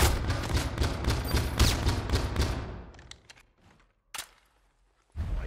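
Suppressed gun in a multiplayer shooter's search and destroy match, a rapid run of muffled shots that fades out, followed by a lone sharp report and another burst starting at the end.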